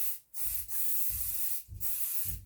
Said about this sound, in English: Just spray it a little to set it.